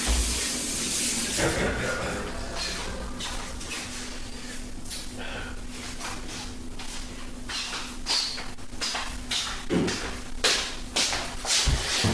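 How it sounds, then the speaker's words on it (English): Running tap water splashes steadily into a sink while someone washes their hands, a continuous close hiss with scattered clinks and small knocks, and a voice speaking faintly in the background. "I'm just gonna go wash my hands real quick"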